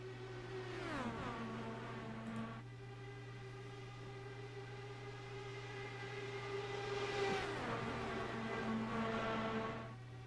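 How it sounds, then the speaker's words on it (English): IndyCar race cars in a racing video game accelerate off the start line, several engines whining upward through their gears with sharp shift drops, a steady loud drone underneath and no talking. "he accelerates now, and we are underway for season 4 of the VOR IndyCar Euro Series"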